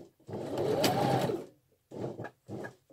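A sewing machine over-sews a single welt pocket on a coat or jacket in short bursts: one longer run, then two brief stitching spurts, moderately close.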